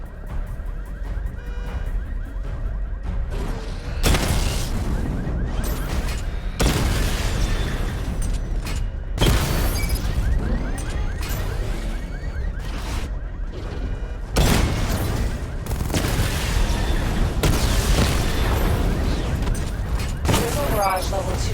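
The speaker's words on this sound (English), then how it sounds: "Charge up missile barrage to level 2 and destroy 4 active targets to complete diagnostic test." Missile barrage explosions during a weapons diagnostic test in a Batman video game, a long run of loud booming blasts and bursts that come in waves over dense background rumble, with a voice speaking over them.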